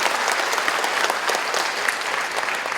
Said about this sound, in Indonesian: Jadi mohon berikan tepuk tangan yang meriah untuk Pak Wali,